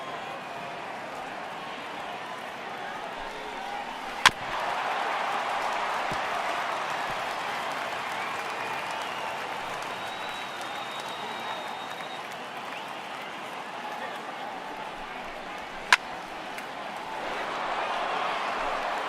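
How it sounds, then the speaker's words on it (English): A home stadium crowd in the MLB The Show 18 baseball game, Rockies versus Dodgers, gives steady, distant applause and murmur that swells and holds, with two sharp clicks cutting through. "Well, the home crowd seems a little restless,"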